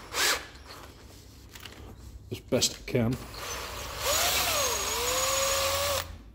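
A power drill whirs up to speed and runs steadily for a couple of seconds, gripping and pulling a stuck pin from a Land Rover diesel injector nozzle, with a brief spoken phrase and some clicks and handling noises beforehand.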